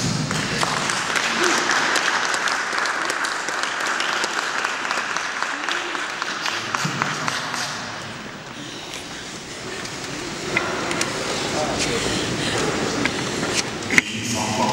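Congregation applauding at a funeral and burial, acclaiming the Lord: sustained broad clapping from a crowd that eases briefly near the middle, then swells again with some voices mixed in.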